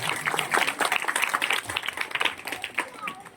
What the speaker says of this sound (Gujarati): પહેલા સૌથી પહેલા એન્કરિંગ કરી હોય એ રાહુલભાઈ માટે પણ ખૂબ તાળીઓથી આપણે એમનું અભિનંદન કરીએ